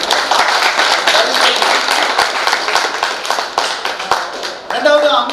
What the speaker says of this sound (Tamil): ஃபர்ஸ்ட் வந்து இந்த ஜோ எல்காஸ் நிறுவனத்துக்கு ஒரு சின்ன கைத்தட்டல்